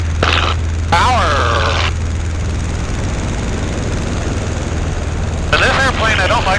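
A steady propeller engine of a Pietenpol light airplane in flight, run at about 2,300 rpm, drones continuously throughout, with a voice talking briefly over it at the start and again near the end.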